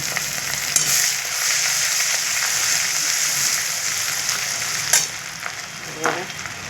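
Garlic paste hitting hot oil with whole chillies, a loud close sizzle that holds steady throughout, with a few sharp spatters and utensil knocks near the end and no speech.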